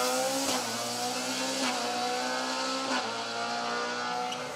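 A rally car drives a special stage at Cadwell, its engine droning loudly with shifting revs and a few gear changes, heard continuously at close to moderate distance.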